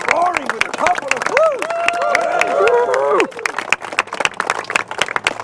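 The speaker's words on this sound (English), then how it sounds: "And let's keep that applause roaring" A crowd on an Old Tallinn tour claps and cheers, with rapid overlapping claps mixed with whoops and excited voices that ease off toward the end.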